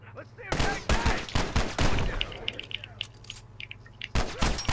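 Gunfire in The Last of Us: a dense burst of loud, close shots in rapid succession, a pause filled with game noise, then another pair of sharp blasts at the end.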